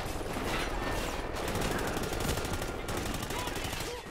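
Continuous rapid automatic gunfire from a Call of Duty Ghosts match, loud and dense throughout with heavy battle noise filling the whole stretch.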